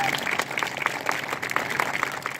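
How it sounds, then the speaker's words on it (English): An audience at a 2018 Hammonassett festival dance performance claps steadily in a dense, continuous round of applause, with scattered sharper claps standing out over the crowd's wash of sound. "a big round of applause"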